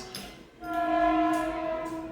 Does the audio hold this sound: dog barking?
no